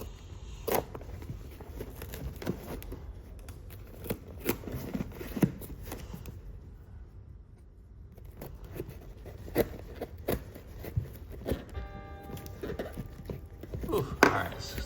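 Cardboard packaging for a Gundam MSIA toy is cut open along its sides. Close, quiet, irregular cutting and scraping taps repeat over a low background, with a calmer stretch in the middle and some rustling near the end.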